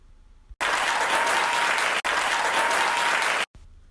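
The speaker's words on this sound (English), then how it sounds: "So let's give a round of applause to President Joe Biden for that." Burst of crowd applause, loud and dense, starting abruptly and cutting off after about three seconds with a brief break midway, like an inserted applause sound effect.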